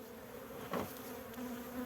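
Honey bees buzz steadily inside a beehive in a continuous close drone, and one bee passes louder for a moment.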